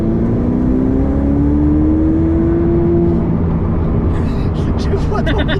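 A Ferrari 488 Pista on a launch-control start, engine droning loud and steady with a rising tone from inside the cabin, then sharp shift-like bursts near the end.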